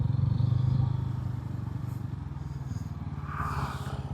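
A 160cc city motorcycle engine idles and putters at low rpm, a steady close, throbbing low hum with faint mechanical clatter, continuous and unchanging through the short clip with no talk.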